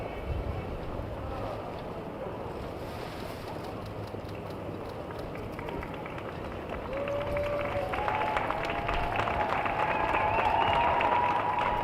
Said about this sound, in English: We can hear the applause.